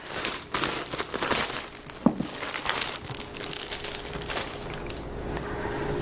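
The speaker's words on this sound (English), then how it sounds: "So let's just get rid of the plastic wrapper." Crinkly plastic wrapping rustles and tears as it is pulled off a Microsoft Surface Laptop 4 box, a close, busy stretch of crumpling with sharp crackles and one brief snap.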